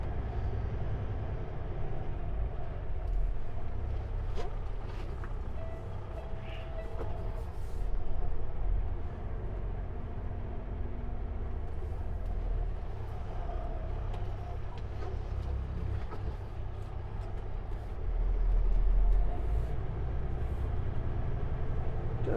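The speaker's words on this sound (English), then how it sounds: "I've got to jackknife the trailer." A semi truck with trailer jackknifes to turn around in Kamloops, a steady low diesel rumble with heavy mechanical drone that swells twice as the rig maneuvers, no talking.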